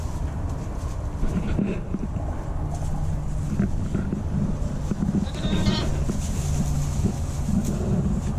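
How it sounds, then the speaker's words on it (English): Bottle lambs bleat inside a livestock trailer over a steady rumble of wind and vehicle noise, with repeated calls overlapping throughout. "just stopped to check on the lambs, see how they're doing. They've been in the trailer about an hour or so."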